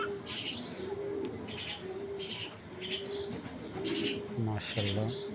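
Long-distance racing homing pigeons of foreign bloodline, cooing in soft repeated low phrases at close range with faint chirps and background murmur throughout.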